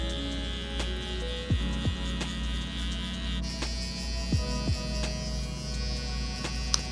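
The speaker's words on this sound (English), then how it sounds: "I believe I still have this trimmer in the low speed setting" A hair trimmer on its low speed setting runs close by with a steady electric buzz and hum, its pitch shifting slightly midway, with small clicks and scrapes as it moves.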